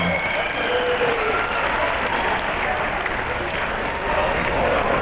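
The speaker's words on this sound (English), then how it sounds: "Ladies and gentlemen, how about a round of applause for these two fighters going the distance here tonight?" An arena crowd at a boxing event applauds the two fighters after the bout goes the distance, a loud, dense, continuous roar of clapping that holds steady throughout.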